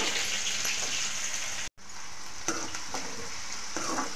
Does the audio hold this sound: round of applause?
no